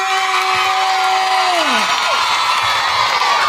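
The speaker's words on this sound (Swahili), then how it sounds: "Vigelegele." A church congregation at a joint mass held at Nyasubi secondary school cheers and ululates as a crowd, a steady roar of voices with a sustained high tone that drops away midway.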